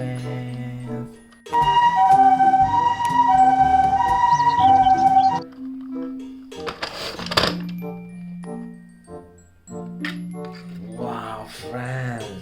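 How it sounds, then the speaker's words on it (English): An electronic siren wails in a repeating two-tone pattern for a few seconds, then gives way to clinks, thunks and brief voices. "This is ambulance."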